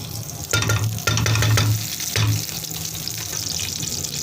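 Oil sizzles and crackles loudly in a hot pan, with a few sharp bursts of frying as something is stirred in, then a steady hiss.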